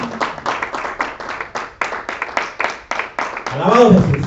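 A church congregation at a Sunday service claps in a steady, rhythmic beat, about two claps per second, before a voice rises over the end of the clapping.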